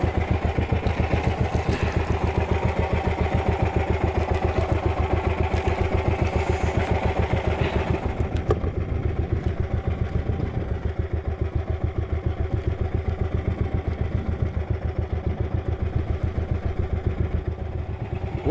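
A boat engine runs steadily at sea in strong current, its close, loud rhythmic chugging and clatter continuing without pause.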